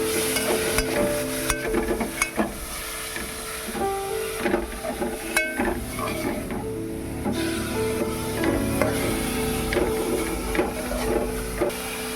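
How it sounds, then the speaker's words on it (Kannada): Beetroot and onion stir-frying in a pan, a steady sizzle with scraping and clattering from stirring, close and fairly loud, with some background mechanical hum. "ಬೀಟ್ರೂಟ್ನ ಈರುಳ್ಳಿ ಜೊತೆ ಚೆನ್ನಾಗಿ ಫ್ರೈ ಮಾಡ್ಕೋಬೇಕು."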